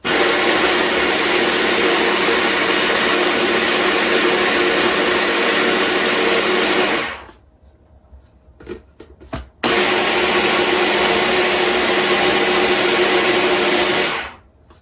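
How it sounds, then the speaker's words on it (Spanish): A blender grinds a quinoa mixture in two loud, steady whirring runs of about seven and five seconds, separated by a brief pause with faint clatter. "Vamos a moler todo esto para obtener una mezcla homogénea."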